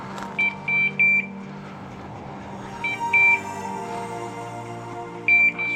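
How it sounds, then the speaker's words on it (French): A hunting dog's beeper collar sounds out in a woodland during a woodcock hunt, giving clusters of sharp, high electronic beeps in three bursts separated by quiet gaps, moderately close against a low background hum. "entendre le bip qui retentit dans la forêt"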